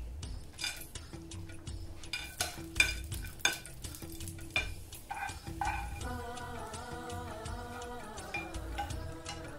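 Raisins frying and being stirred in a pan for a dates payasam, with a steady sizzle under repeated scraping and clinking of a metal spoon against the pan, close and moderately loud, no talking.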